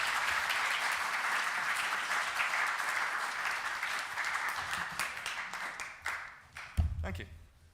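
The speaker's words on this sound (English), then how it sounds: "Big hand of applause, everybody." Audience at a fusion meet-up gives a round of applause, a dense burst of clapping that gradually thins and fades into scattered claps and a few bumps.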